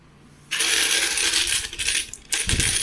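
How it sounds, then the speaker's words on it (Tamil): Indian five rupee coins tumble out of a freshly broken packet, a loud continuous metallic jingle and clatter of many coins close by, pausing briefly before a second pour. "இது ஒரு நாணயம் இன்றைக்கி வந்திருக்கு. இப்போ தான் பாக்கெட்டை உடைச்சி கொட்டுறேன்."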